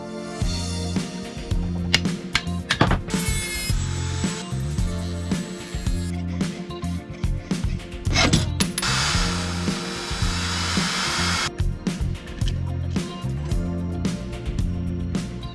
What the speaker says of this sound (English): First thing I gotta do is get these bolts out.